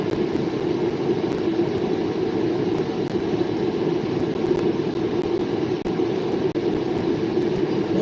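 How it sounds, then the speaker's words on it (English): A long B&P mixed manifest freight train rolls steadily past at East Butler, Pennsylvania, a continuous loud rumble with repeated rhythmic wheel clicks over rail joints, heard alone without talk. "One big massive freight train right there."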